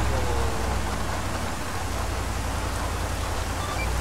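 Heavy rain pours in the video game ArmA 3, a loud constant wash of noise with a low rumble underneath.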